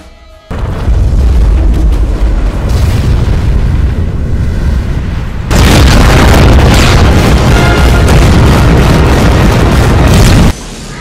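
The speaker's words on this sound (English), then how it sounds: "you need to explode something" Movie explosions: two long, loud, rumbling blasts, the second erupting even bigger and roaring on for several seconds before cutting off abruptly.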